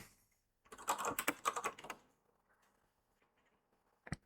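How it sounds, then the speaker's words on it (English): Quick clusters of keystrokes clatter on a computer keyboard for about a second and a half, then fade to scattered faint taps and one final sharp key press. "let me type"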